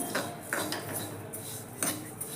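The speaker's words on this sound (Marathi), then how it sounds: "कढई तापलेले आपण जवस भाजून घेऊया जवस चांगले भाजून घ्यायचे चटचट वाजेपर्यंत" Flaxseeds dry-roast in a hot kadhai for a flaxseed chutney. A spatula scrapes and clinks against the metal pan in a few quick strokes over a soft, continuous rustle.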